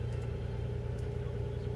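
A car engine running inside a home garage, a steady low idling rumble that holds constant and close, with no one talking.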